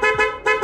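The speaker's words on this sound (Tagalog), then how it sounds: "Nalagyan na siya ng G-Star horn. Loud horn yon." A loud aftermarket G-Star horn on a Mio i 125 motorcycle sounds two sharp, steady honks close up, each about a quarter second with a short gap between.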